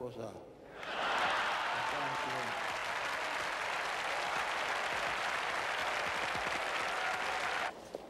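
A large crowd applauds Pope John Paul II, sustained thunderous clapping that swells in after a brief quiet start and holds steady before cutting off near the end.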